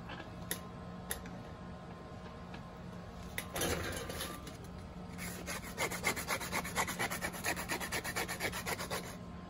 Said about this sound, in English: So I get some sandpaper.